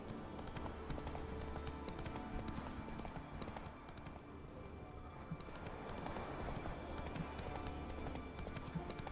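Roach, a horse in a video game, gallops steadily along at Ard Skellig with rhythmic hoofbeats under ambient game sound and soft music, fairly faint throughout.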